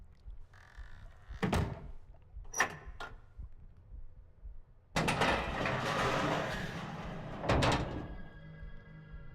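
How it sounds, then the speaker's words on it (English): A door pulled shut inside a claustrophobic room in the game Myst III: Exile, heard as a couple of soft thunks followed by a longer rumbling slide and a final heavy thud, with no talk over it. "me close the door behind us."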